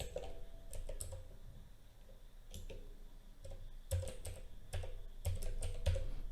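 Quick bursts of typing on a computer keyboard, soft clicky keystrokes in irregular clusters separated by short pauses, close and fairly quiet, with no talking.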